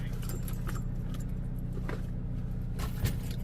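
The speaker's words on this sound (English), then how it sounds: "Let me get my keys." Keys jangle in a few light, brief bursts against a steady low engine or road rumble, close by and moderately loud, with no one talking.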